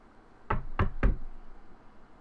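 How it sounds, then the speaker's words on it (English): Three sharp knocks on a door in the visual novel game Tsukihime, evenly spaced and close, with quiet room tone after, no talking. "She knocks on the door."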